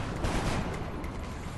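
Suppression gunfire in the video game XCOM: Enemy Unknown, a dense loud burst of rapid automatic fire and heavy rumble lasting under two seconds, with no talk.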